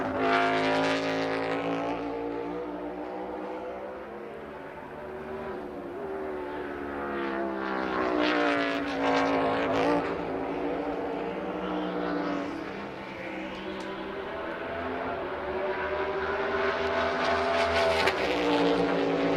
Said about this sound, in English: Up the hill to turn 1. Hard braking from 150 miles an hour down to 40 miles an hour.